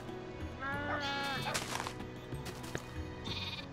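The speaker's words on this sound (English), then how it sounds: "baby sheepy" A baby sheep in the Minecraft video game gives a few wavering bleats close up over a dense background of other noise.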